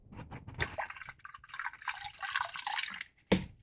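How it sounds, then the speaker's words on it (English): Wine poured into cream for a pan sauce, served alongside seared ocean trout and crab cakes: a soft, trickling liquid stream with light drips, ending in a brief clink. "We'll add in the cream. We'll add in the wine."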